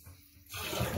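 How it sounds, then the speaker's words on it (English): Water rushes into a toilet tank after the supply valve is opened, a sudden close, loud hissing flow after a brief quieter moment. "So after cleaning, open the water valve."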